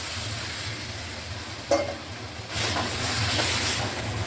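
Water poured into fried masala in a pan for a kaliya curry, a steady close sizzle and hiss that swells louder after a brief splash-like burst.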